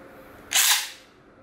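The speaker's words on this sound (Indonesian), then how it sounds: "Kok kayak gear nyangkut gitu suaranya ya" A short, sharp mechanical rasp, like a gear snagging inside a toy sword launcher, bursts out for about half a second against a quiet room and then fades away.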